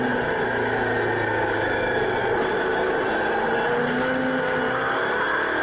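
Australian muscle cars, a Camaro and a Mustang, racing on an old recording, steady distant engine roar with rising and falling revs, continuous and somewhat muffled.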